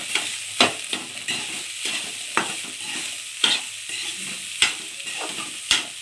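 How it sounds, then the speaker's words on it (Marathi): Cooked rice being stirred and fried in a pan, with repeated scraping strokes of a spatula over a light sizzle, close up, each stir landing as a sharp scrape every second or so. "असं मिक्स करत राहायचं"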